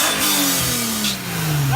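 Loud close revving from a Nissan 350Z/G35 fitted with a Motordyne test pipe, one blip climbing and easing off before another sharp rise at the end.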